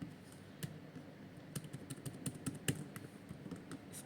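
Quick, light keystrokes on a computer keyboard while entering text in a Django project, a soft irregular run of clicks close by with no speech.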